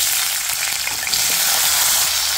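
Tindora (dondakaya) hits hot oil in a pan and fries with a loud, dense, continuous sizzle that stays steady throughout.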